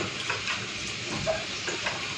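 Potatoes frying in oil, a low steady sizzle with faint stirring sounds, quiet and close with no voices over it.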